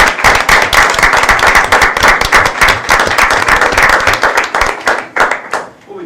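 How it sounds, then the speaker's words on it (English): Audience applause at a school board meeting, a dense round of many hands clapping loudly and steadily for several seconds before tapering off near the end. "One more round of applause, guys"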